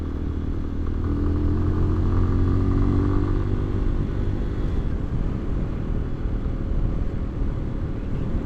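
Lifan Xpect motorcycle fitted with a 17-tooth front and 41-tooth rear sprocket, running in third gear at high RPM around 40 mph: a steady, loud engine drone with wind rumble throughout, the pitch easing slightly partway through.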